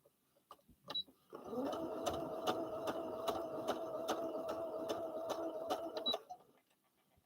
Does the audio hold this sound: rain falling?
no